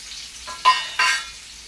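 Onion pieces drop into two spoons of hot oil for jackfruit pulao, giving two sharp, close bursts of sizzling that flare up and fade within about a second, with no talking.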